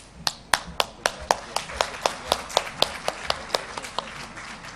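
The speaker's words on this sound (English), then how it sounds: "My request to our audience is to please keep applauding for them." Audience at an international holistic health conference applauding, heard as a steady run of sharp, evenly spaced claps, close and fairly loud, with no talking over them.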